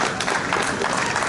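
A conference audience at a builders' gathering in Lagos claps together, giving a dense, even wash of applause throughout the short stretch.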